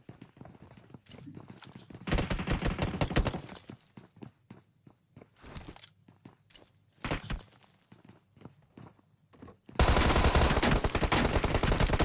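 Bursts of Tommy SMG fire from a PUBG Mobile esports match, loud dense volleys around the middle and a sustained heavy burst near the end, with scattered footsteps and quieter clicks between.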